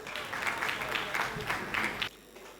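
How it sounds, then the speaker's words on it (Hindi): Audience applause at a Hindi comic poetry gathering welcoming a poet to the stage, brisk clapping in short swells under a speaking voice, cutting off abruptly near the end. "जोरदार तालियों से स्वागत करें।"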